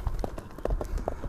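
Quick clip-clop hoofbeats from a running horse in rural Kyrgyzstan, close and steady with a rapid uneven rhythm, and no talk over them.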